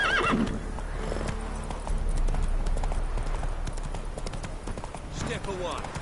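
Horse galloping in The Witcher 3, steady clip-clop of hooves with a neigh and whinny near the start, loud and close, over a dense battle-like background with a voice speaking.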